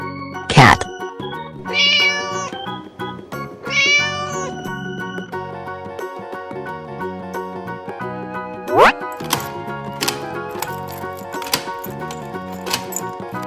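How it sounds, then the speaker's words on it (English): Several loud, close cartoon cat meows ring out in a kids' animal train cartoon, set among bright musical tones and other sound effects. "Cat."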